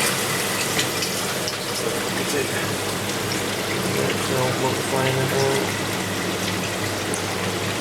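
Water rushes and gushes steadily as it drains through a valve from an Evolution Aqua Nexus 310 aquarium, a constant broadband flow with a person talking briefly over it.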